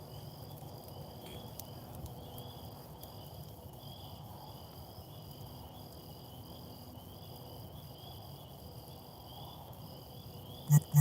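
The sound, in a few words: crickets chirping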